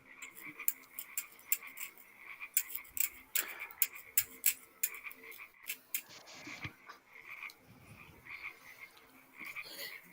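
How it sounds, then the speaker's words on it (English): Frogs croaking in the distance, a fantasy tabletop game backdrop of repeated quick clicking croaks in uneven bursts, faint and alone. "while hearing the croaks of the frogs in the distance"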